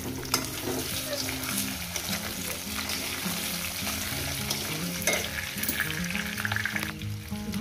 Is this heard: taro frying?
yes